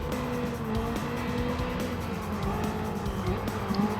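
Ferrari F8 Tributo racing in Gran Turismo 7, a steady engine drone with tire noise carrying on throughout, fairly loud and continuous with no talk.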